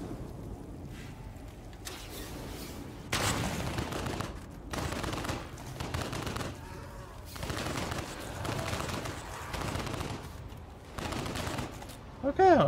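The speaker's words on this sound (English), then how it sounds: "It looks like we fire in burst mode with our submachine gun" Submachine gun fire in burst mode in the twin-stick shooter Solstice Chronicles MIA, with repeated short loud volleys spread across the stretch amid game noise and intermittent speech.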